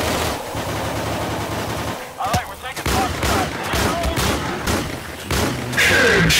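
Rapid automatic gunfire in the zombies mode of the shooter game Insurgency, bursts of shots crackling loud and close over a dense game mix, with players talking over it.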